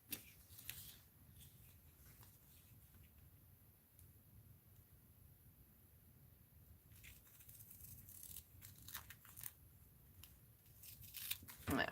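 Scissors cut through craft material for mixed-media art journaling at a quiet tabletop. The close, faint snips and rustles come in short clusters near the start and again toward the end.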